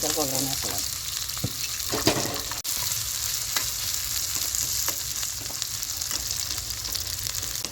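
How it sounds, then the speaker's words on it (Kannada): Steady crackling and spluttering of curry leaves and onion frying in hot oil, close and continuous, with a few sharper pops. "ಹಿಂಗೆ ಎಣ್ಣೆ ಕಾದಾಗ ಸ್ವಲ್ಪ ಚಿಟಪಟ ಅನ್ಬೇಕು ಹೀಗೆ ಕರಿಬೇವು ಸೊಪ್ಪು ಈರುಳ್ಳಿ"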